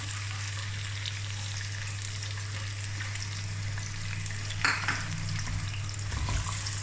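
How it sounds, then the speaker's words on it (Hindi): Finely chopped onion frying in oil with cumin for masoor dal, a steady close sizzle throughout, with brief stirring and scraping toward the end. "प्याज को भी 1 से 2 मिनट के लिए फ्राई करेंगे"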